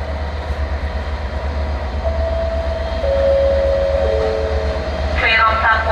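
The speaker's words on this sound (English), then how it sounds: "the train is passing through the station" A Class 57 locomotive-hauled train rumbles through a station at Wolverhampton or Rowley Regis with a low, steady roar, while a tone slides down in pitch and a brief squeal rises near the end.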